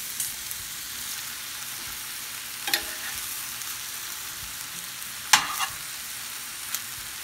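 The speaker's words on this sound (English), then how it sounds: "just keep on flipping until you see that all the shrimp has been cooked, fully cooked" Shrimp frying in a pan for deviled shrimp, a soft steady sizzle with two sharp scraping clatters as the shrimp are flipped, fairly quiet and with no talking.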